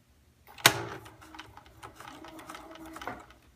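Sewing machine backstitching while quilting with a presser foot and needle down: a sharp clunk opens a run of rapid mechanical stitching that rattles on close by and ends with another knock.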